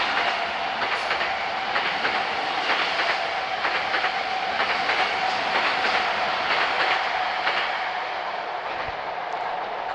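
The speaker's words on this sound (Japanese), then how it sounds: "横浜方面の電車が来てます。" A Tokyu Toyoko line train heading toward Yokohama passes close by, a loud, sustained rumble broken by rhythmic clickety-clack of wheels over rail joints, with no talk.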